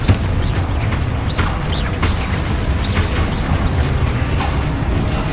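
Spell blasts and magical explosions from the Hogwarts Legacy video game, a dense, continuous barrage of booms and bursts with rising whooshes layered over a steady low rumble, loud throughout.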